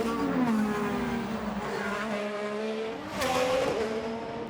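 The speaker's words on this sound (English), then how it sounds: "You can hear the Firestones just chirping over those concrete sections." IndyCar Firestone tires chirp over concrete sections during qualifying at the Long Beach street circuit, as a race car's engine drones and shifts pitch, with a brief sharp squeal near the end, loud and close.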